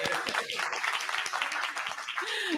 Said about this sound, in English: I don't know if you can hear the clapping.